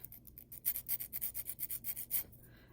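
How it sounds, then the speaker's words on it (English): Quiet, quick back-and-forth rasping strokes, about a dozen in a steady rhythm, as a sanding stick files the sharp edge of a circle fidget ring at an angle. "So I've got this angled all the way around it to file the sharp edges off"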